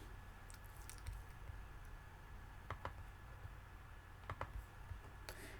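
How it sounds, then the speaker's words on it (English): Someone typing on a computer keyboard in an office: sparse, faint clusters of light key clicks at irregular intervals over a steady low room hum. "Typing away."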